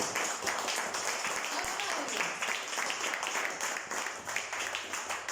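A church congregation applauds in worship, a steady wash of many hands clapping at moderate loudness with voices mixed in beneath.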